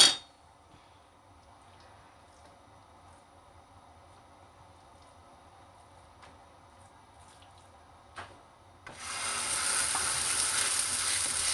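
Msemen flatbread with onion and pepper sizzles quietly in a frying pan with faint handling noises, then a much louder, steady frying hiss takes over near the end.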